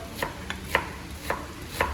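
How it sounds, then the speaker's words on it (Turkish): Large dry onions are chopped into cubes with a knife on a cutting board, five crisp, evenly spaced knife strikes heard up close with no speech. "Onları böyle küp küp doğruyor."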